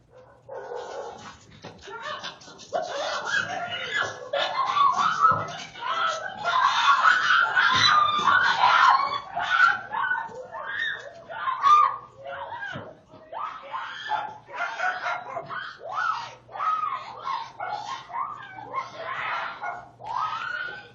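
Dogs attack a cat, heard as a long stretch of frantic barking, yelping and whimpering mixed with shrill screams, dense and continuous throughout.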